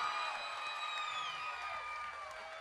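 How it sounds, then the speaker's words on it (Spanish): Audience applause and cheering at a live salsa concert in Juana Díaz, a steady, dense crowd wash that holds for the whole clip with sustained whistles and shouts over it. "ese aplauso, que se sienta"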